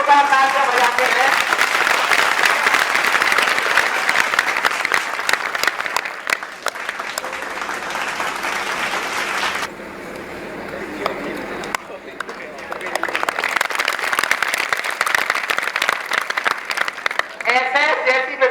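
Loud, sustained applause from an audience honoring Gautam sir at a 10th class results event of D.S. Science Academy in Gangapur City, nearly continuous with a brief softer dip midway, voices mixed in.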